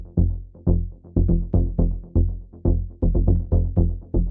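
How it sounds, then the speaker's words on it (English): Fat, creamy synth bass from a Pigments preset in a melodic techno track, pulsing in a steady driving rhythm of repeated low notes, each swelling and fading, loud and close with no voices. "Kind of super so fat classic bass sound, creamy bass sound."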